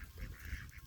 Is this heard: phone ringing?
no